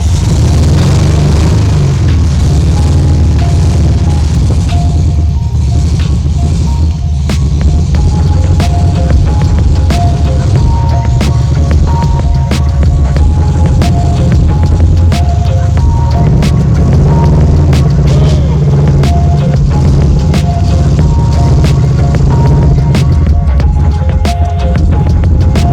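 A Volkswagen Karmann Ghia with camper gear aboard, its engine running steadily with a loud, continuous low throb and hum that holds throughout without any break.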